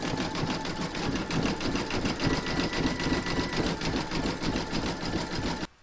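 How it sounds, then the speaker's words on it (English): Embroidery machine satin stitching around the legs of a dress-up doll, a continuous rapid needle chatter and motor whir, close and steady throughout with no talking. "that's going to do the satin stitching all the way around the legs"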